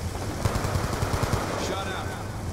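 Rapid automatic gunfire in the video game Black Ops 2, a quick burst of dense shots layered over engine rumble and game noise, lasting only a couple of seconds.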